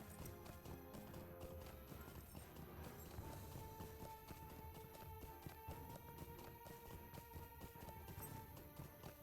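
A horse in the video game LOTRO trots along with rapid, continuous clip-clopping hooves under background music, steady throughout.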